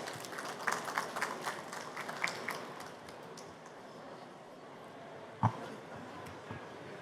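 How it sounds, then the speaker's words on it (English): Faint, scattered audience clapping at a panel on genomic medicine and precision health, honoring the panelists. It lasts only the first few seconds before settling into a low room hum with one sharp knock. "please give our fantastic panelists a big round of applause"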